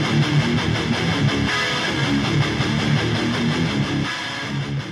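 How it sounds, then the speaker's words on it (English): An electric guitar with a roaring humbucker pickup plays heavy metal: dense, distorted chugging riffs at a steady loud level, easing slightly near the end, with no voices. "And then of course for heavy metal, you need a roaring humbucker."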